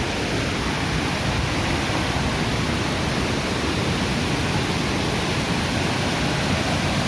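Cachoeira do Mutum, a Brazilian waterfall, roars close by as a dense, unbroken rush of falling water, loud and constant from start to finish.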